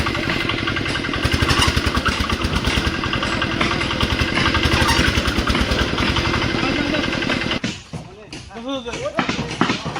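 A motorized engine van idles with a loud, rapid chugging throb while a boat is loaded onto it at a boat-building village. The engine drops away near the end, leaving people talking.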